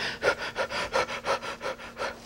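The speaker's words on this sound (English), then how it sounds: "You're moving most of your air out and most of your air in with every inhale, exhalation." Deep, forceful breaths move large volumes of air in and out in an even rhythm of roughly eight strong pulses, close and loud with no talking.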